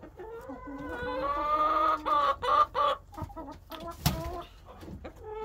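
Hens clucking in a rooster pen, flock including an Easter Egger and a silver laced hen, a run of close, loud, pitched clucks and squawks with a sharp cry near the end, no talking.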